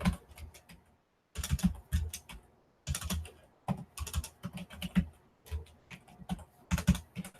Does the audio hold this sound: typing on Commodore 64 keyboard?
yes